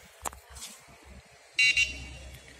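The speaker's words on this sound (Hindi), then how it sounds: "हॉर्न भी है इसमें" After some quiet clicking and handling noises, the small electric horn on a lightweight foldable power wheelchair gives two short, bright beeps in quick succession, close by.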